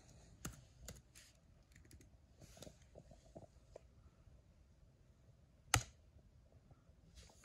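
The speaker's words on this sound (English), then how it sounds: "So we're gonna type that in." Typing on a computer keyboard: soft, sparse key taps scattered irregularly over a faint background, with one sharper, louder click near the end, close and with no talk.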